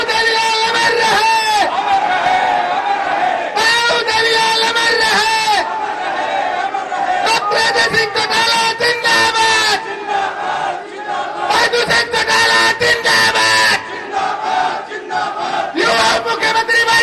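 A large political rally crowd in Haryana welcomes Deputy Chief Minister Dushyant Chautala with loud, sustained chanting of slogans in bursts, shouted calls and answering roars, with clapping mixed in throughout.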